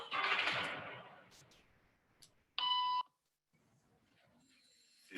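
A short electronic beep tone used as a signal for people in a waiting room to stand, one steady bright tone of about half a second after rustling noise, followed by quiet room sound.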